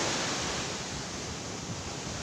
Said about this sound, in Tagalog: Malakas talaga yung alon.